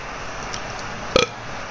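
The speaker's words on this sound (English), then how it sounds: "did he just burp?" A single short, loud burp in a wrestling video game match between Cody Rhodes and a player, bursting out suddenly over a quiet background hum.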